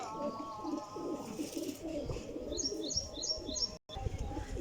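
Kasuri and Sialkoti pigeons coo continuously in soft, throaty bursts, with several birds overlapping and occasional higher chirps, fairly close and moderately loud.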